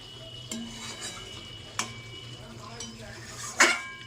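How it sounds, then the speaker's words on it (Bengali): Meat is stirred and fried in a pot over a medium-to-low gas flame, with a few sharp metal clinks of the utensil against the pot spaced apart over a quiet background sizzle. "আমি বেশ ভালো করে মাংসটা কষিয়ে নেব।"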